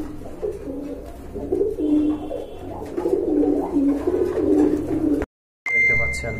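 Black satin pigeons coo steadily in a low, throaty rhythm at close range through most of the clip, then a brief dropout comes before a thin electronic beep near the end.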